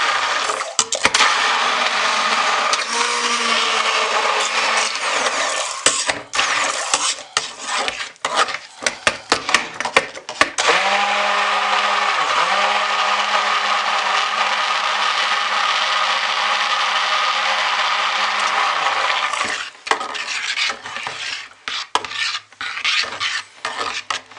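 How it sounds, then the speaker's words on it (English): A stick blender whirs loudly and steadily through thick soap batter, with brief pauses and scraping knocks as it moves; no voices. "I'm going to get this stick blending and make some noise for a little while"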